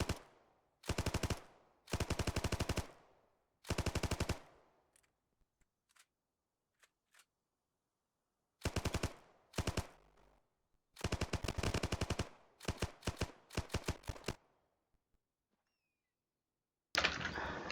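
An M1919A6 machine gun in Arma 3 fires several loud, close bursts of rapid automatic shots separated by silent pauses, with a few isolated clicks between bursts.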